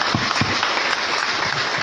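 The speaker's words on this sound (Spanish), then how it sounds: "Un fuerte aplauso al Señor." Congregation in a church applauding, a steady wash of clapping held at an even level for a couple of seconds with no talking over it.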